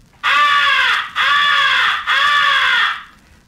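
A hand-held crow call device, cupped like a megaphone, imitates a distressed crow's come-here call: three long, loud, harsh caws in steady succession, close and alone.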